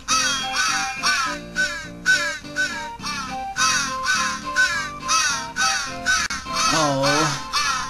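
Crows caw repeatedly in the video game Santa Claus in Trouble, a steady series of loud, harsh calls in quick rhythmic bursts, with a background game tune underneath.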